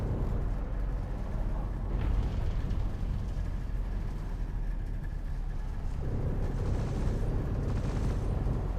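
Sustained rumbling gunfire from a downward strafing run on a Hornet ship in a space combat video game, loud and continuous with dense low-end roar and brief swells.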